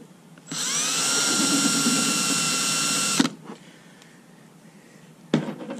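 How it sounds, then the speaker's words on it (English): An electric drill bores a drain hole through the hull of a plastic Pelican Predator 103 fishing boat, one loud steady high whine lasting about three seconds before it stops, followed by quieter handling noises and a short knock. "drilling another hole in a perfectly good boat"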